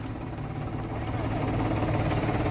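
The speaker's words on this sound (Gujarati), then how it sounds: "હવે ટ્રેક્ટર લઈને જવાનું છે આપણે." A tractor engine runs at a steady idle close by, a continuous low, throbbing drone that grows slightly louder toward the end, with no clear talk over it.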